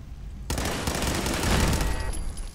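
Gunfire in Fallout 4 rattles as a player shoots at a turret, a sudden loud burst of rapid shots that keeps going in a dense, ragged stream for about two seconds, with no talk.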